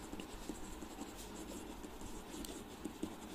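Pen or marker scratching out a derivative solution on a writing surface, a quiet, continuous scratchy rubbing with small strokes and ticks, heard alone without talk.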